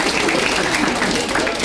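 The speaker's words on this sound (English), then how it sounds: "Give him a round of applause for joining in." A comedy club crowd at a stand-up show applauds, a continuous dense wash of clapping that stays loud and steady throughout.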